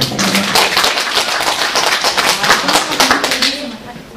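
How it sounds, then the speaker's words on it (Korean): Clapping from a small audience at a trail guide training session honoring a teacher, dense close hand claps that hold steady and loud throughout. "류정숙 선생님께 다시 한번 박수 드립니다"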